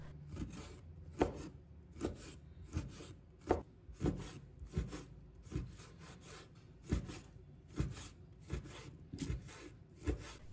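A knife slices repeatedly through a slab of pork fat, skin already removed, on a board: about a dozen close, crisp cutting strokes in a steady rhythm, with no talk.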